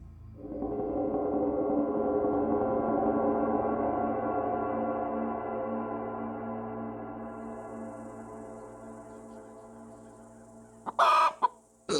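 A white chicken gives a long, drawn-out crowing or clucking call, loud and harmonic, fading slowly over about ten seconds, followed by a few short sharp clucks at the end.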